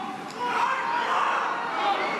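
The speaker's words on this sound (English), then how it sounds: "The crowd of mostly young supporters cheering the president on at the Dream City Church in Phoenix" Crowd of mostly young supporters cheering at a presidential rally inside Dream City Church in Phoenix, a steady roar of many voices with shouting and chatter throughout.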